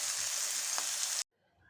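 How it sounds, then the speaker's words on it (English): Loud, continuous sizzling of chicken breast cooking on a hot grill, close by, cutting off abruptly into near silence. "You can see the chicken is sizzling now"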